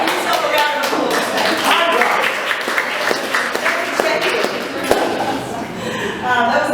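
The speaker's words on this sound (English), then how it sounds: "give yourself a round of applause" An audience at a stage play claps steadily, a thick patter of hands with a few sharper individual claps, fairly close and sustained.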